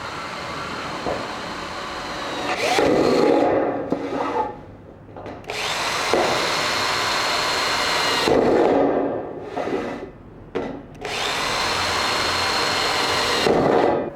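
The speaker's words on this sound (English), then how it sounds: "Now I'll use a steel drill bit to drill drainage holes just about every foot." A power drill with a steel bit whines loudly in several long bursts, each biting into a steel rain gutter, with short pauses between drainage holes.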